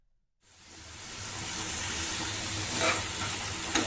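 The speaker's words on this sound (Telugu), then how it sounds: "బీన్స్ ముక్కలు ఫ్రై అయ్యాయి" Chopped beans sizzle in a frying pan, a hissing fry that starts suddenly after a brief silence and builds to a steady, close crackle with a faint stir or clink near the end.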